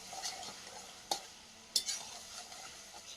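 Meat and potatoes being stir-fried in oil in a home kitchen pan, a soft continuous sizzle broken by a few sharp scrapes and clinks of the spoon against the pot.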